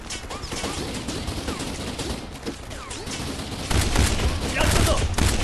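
Sustained automatic gunfire rattles through a firefight in the action game Kane & Lynch: Dead Men, with dense bursts that grow louder near the end and voices speaking over the shooting.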